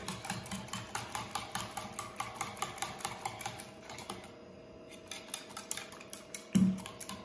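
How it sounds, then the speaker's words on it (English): Spoon clinking and scraping rhythmically against a bowl or pot while sugar is stirred into a coffee jelly mixture, steady repeated taps close by, pausing briefly before a louder knock near the end. "Stir it well again."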